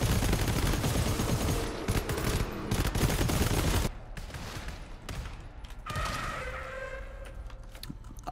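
Dense, loud video-game gunfire keeps up almost without a break for the first few seconds, then eases into quieter scattered shots and rumbling game noise.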